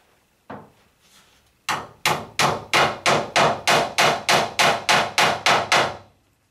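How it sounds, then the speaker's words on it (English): A hammer drives a tack nail into a roof batten: one single blow, a short pause, then about a dozen loud, evenly spaced wooden knocks in a steady rhythm. "it needs to be fixed into the batten above, usually with a tack nail"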